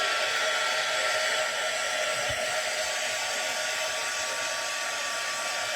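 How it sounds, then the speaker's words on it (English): A heat tool blows hot air to dry ink on a stamped sunflower card, a loud, steady, continuous roar that holds unbroken from start to finish with no talk over it. "give it a little blast with my heat tool, just to dry it off."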